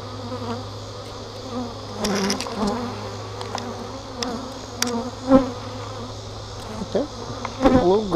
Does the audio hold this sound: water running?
no